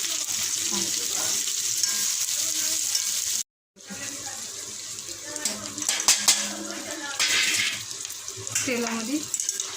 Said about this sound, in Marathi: तेलामध्ये परतून बघा.